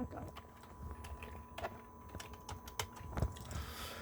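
A computer keyboard clatters with quick, uneven keystrokes, close and fairly quiet, with a few louder clicks mixed in and someone speaking at times.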